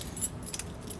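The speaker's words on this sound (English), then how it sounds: "you are going to have these silver keys," Silver keys for a 2022 Jay Flight 264BH travel trailer's main and baggage doors jangle together in a quick, bright cluster of metallic clinks, close by and without talk.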